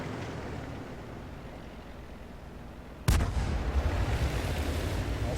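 A tank cannon in World of Tanks, fired by a Hetzer tank destroyer, goes off once as a single sharp, heavy boom partway through, followed by a rumbling tail over a low steady background.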